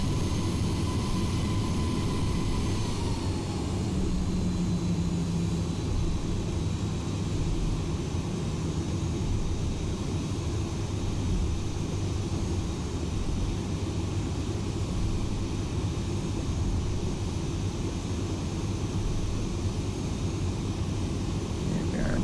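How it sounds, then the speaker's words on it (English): A Delta airliner taxiing toward the runway in the X-Plane flight simulator gives a steady, continuous jet engine drone with a low rumble, holding at an even level throughout with no talk. "we're leaving the gate, taxiing our way down to 34 left, 34 right"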